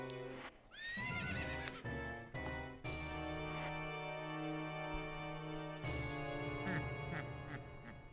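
A video game horse neighs loudly and close, with a long whinny and a run of shorter snorts and whinnies over steady game music, alone without talk.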